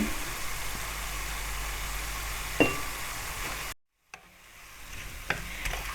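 Onions frying in oil in a pan for a Bengali rohu fish kofta curry, a steady soft sizzle with a few clinks, briefly dropping out before resuming more quietly.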